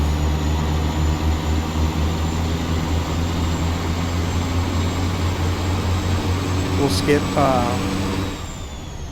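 Cat 3406-C diesel truck engine in American Truck Simulator, a steady, loud, deep drone that holds throughout with a low harmonic hum. A brief higher noise rises near the end as the engine sound eases slightly.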